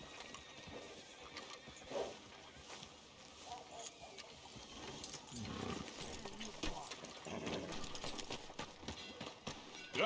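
Horse hooves clip-clop on a street in the video game Red Dead Redemption 2. The quiet, uneven steps sit under game dialogue and soft ambient background sound.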